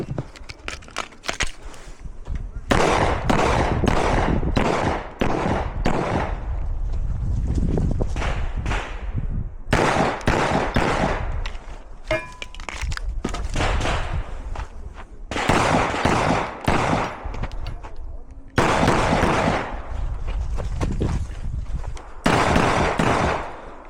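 Repeated loud gunshots ring out during a timed pistol shooting competition run, sharp bursts in quick clusters separated by short pauses, with echoing reports across the range.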